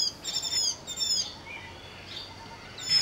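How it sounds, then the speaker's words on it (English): White-eye birds calling in an orchard during the Shivalik monsoon in India: a few high, thin chirping calls in short bursts, with a quieter gap between them and a final call at the end. "A pair of white eyes has also set up camp within the same orchard."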